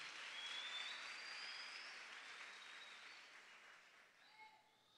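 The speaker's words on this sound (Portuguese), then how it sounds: "Pode aplaudir a Jesus" A church congregation applauding during a sermon, a soft, continuous wash of clapping heard from some distance in a reverberant hall, fading slightly near the end, with faint whistle-like tones above it.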